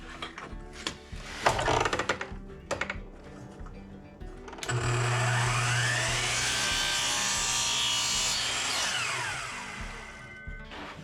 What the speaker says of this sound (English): So I'll swing my saw around to 45 on this side.